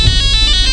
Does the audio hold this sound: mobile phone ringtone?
yes